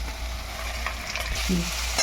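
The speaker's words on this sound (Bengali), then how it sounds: "খুব ভালো করে নাড়াচাড়া দিয়ে এটাকে ভেজে নেব" Onion and spices stirred and fried in a pan for a hotel-style tarka: a continuous close sizzle with scraping stirring strokes, no talking.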